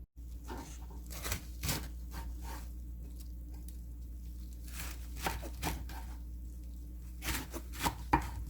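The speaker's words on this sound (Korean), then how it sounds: "물기를 쫙 뺀 미역인데 먹기 좋은 크기로 썰어서 무쳐보도록 하겠습니다" Fresh seaweed, drained of water, is cut into bite-size pieces, giving soft, irregular chopping and snipping taps at close range. The cuts fall in small clusters over a quiet hum, and nobody speaks.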